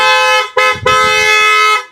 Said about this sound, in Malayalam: ഇതുപോലെയുള്ള ഹോൺ കാര്യങ്ങളെല്ലാം നമ്മൾ പിടിപ്പിച്ചിട്ടുണ്ട്